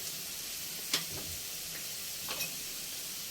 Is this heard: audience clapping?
no